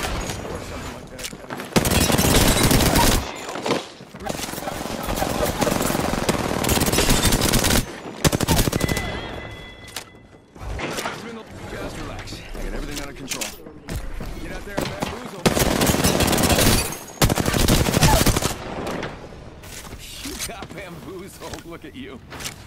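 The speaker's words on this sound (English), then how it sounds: "Opening fire on the enemy." Gunfire in a video game shooter comes as repeated loud bursts of rapid automatic fire separated by short pauses. A voice talks between and under the volleys, and there are occasional metallic clicks and electronic tones.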